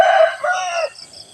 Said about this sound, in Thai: ได้ยินเสียงไก่ขานต้อนรับแล้ว